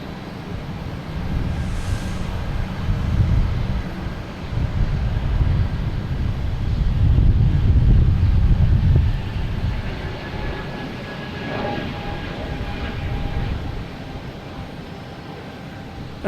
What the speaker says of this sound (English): next taking off is an A220 JetBlue heading to Detroit